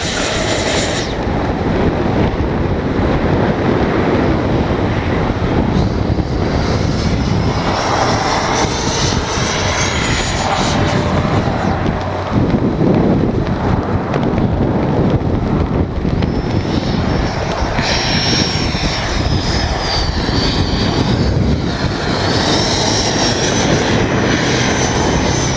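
An FMS 70mm Avanti S electric ducted-fan RC jet flies past, a loud continuous whooshing roar that rises and falls as it passes nearby, with no talk over it.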